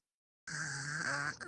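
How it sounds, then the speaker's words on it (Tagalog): A person snores once, a single drawn-out nasal rasp about a second long that starts abruptly out of silence and then breaks off. "Ay, may humihilik na."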